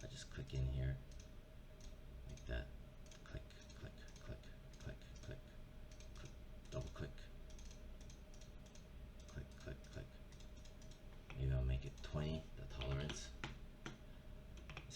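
A computer mouse clicks in short sharp bursts while tiny specks in an image are selected. The clicks are quick and irregular, with a few louder clusters, close and faint. A voice talks quietly in between.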